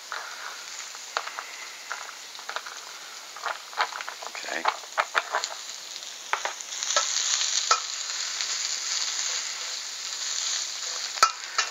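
Garlic and onions sauté in a pan for a pink tomato sauce, giving a steady light sizzle broken by scraping stir strokes and occasional clinks, close by, with a voice speaking briefly over it.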